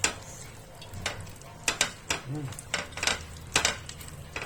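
A spoon scrapes and taps in a pan while pea and bottle gourd ghugni with tomato puree is stirred, a series of sharp clinks and scrapes at an uneven pace, close and moderate.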